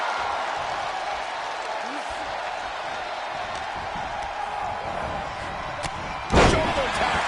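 A heavy body slam lands in a PS5 WWE-style wrestling game, a single loud thud near the end over constant arena crowd noise.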